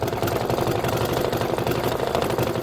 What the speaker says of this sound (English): This is a minute of stitching here.